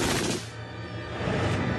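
An MG-42 machine gun fires in a dense, rapid burst so fast the shots blur into a continuous tearing roar, loud and sustained across the whole moment with a slight dip midway.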